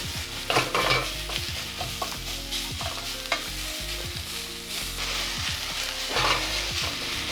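Cabbage sautés in a hot pan for Asian noodles, a steady close sizzle and fry broken by repeated stirring scrapes and clanks throughout.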